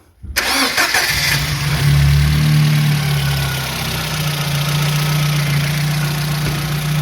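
A Lada 1118 with a 1.6 engine, freshly repaired cylinder head, cranks briefly and catches, revving up loud and close before settling into a steady, even idle hum.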